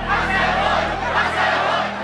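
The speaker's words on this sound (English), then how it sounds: "The crowd chants, mafia." A crowd of residents at Amoy Gardens chants in unison during a confrontation with police, a dense, loud mass of voices rising and falling in waves.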